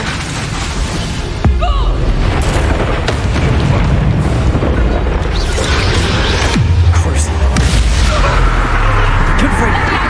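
Confringo fire-spell explosions in Hogwarts Legacy, loud booming blasts that recur over dense combat noise, with a voice shouting over the action.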